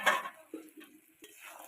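Pieces of sea bass (barramundi) go into a pan of cooked spices with quiet clinks, soft thuds and a faint sizzle, close and brief, and no voices.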